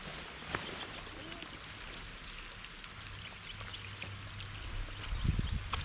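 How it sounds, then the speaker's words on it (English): Rain falls steadily over a swamp, a soft continuous hiss of drops with faint low rumbling and a brief knock near the end, no voices. "it's raining again"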